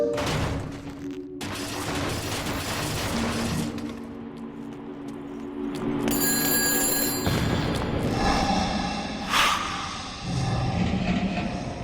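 A telephone rings in Shadows of the Damned, a bell-like tone that sounds in bursts amid loud game noise and clattering gunfire.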